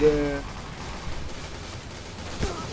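Rapid gunfire in the online shooter Point Blank, a dense crackling burst of shots running through the whole stretch with a couple of sharper spikes, mixed with game sounds.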